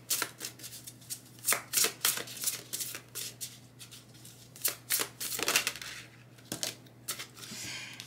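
Oracle cards being shuffled for a reading: soft, rapid riffling and slapping bursts in irregular clusters, close and fairly quiet, with no talking.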